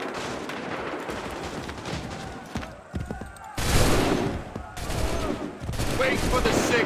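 Muskets fire a volley on command in Assassin's Creed III, with loud booming bursts of gunfire rolling in waves and shouted voices in among the noise.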